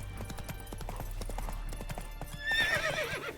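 Roach the horse gallops in The Witcher 3 video game, with quick, steady clip-clop hoofbeats running throughout and a brief whinny rising near the end over a low background rumble.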